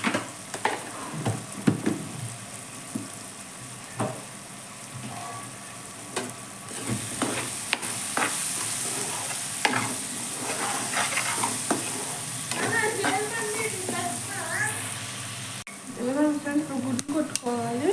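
Egg paneer fries in a pan with a continuous sizzle and frequent clattering spatula strokes; a person talks intermittently over the cooking.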